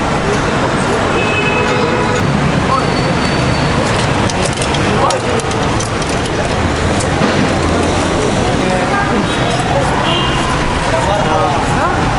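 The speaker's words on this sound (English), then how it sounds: "this is the environment and the streets at the moment, so very, very busy, normal day in Cairo, traffic" Dense, steady traffic roar fills a busy Cairo street on a normal working day, with engines and vehicles passing close by continuously and people talking faintly in the background.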